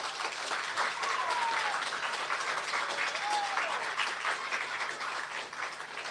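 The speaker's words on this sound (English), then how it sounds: "Give this school a round of applause." An audience at a primary school graduation applauds in a steady, fairly faint wash of clapping that lasts throughout, with a few voices and whoops mixed in.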